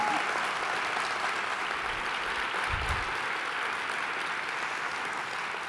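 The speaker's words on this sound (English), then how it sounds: "Everybody, let's give a big round of applause to Trey." Steady applause from a conference audience at a leadership general session, a dense even wash of clapping that holds for several seconds at moderate distance.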